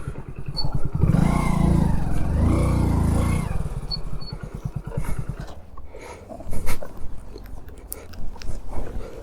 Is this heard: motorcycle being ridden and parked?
yes